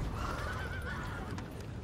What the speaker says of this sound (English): Go, horses.